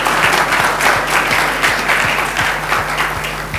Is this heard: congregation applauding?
yes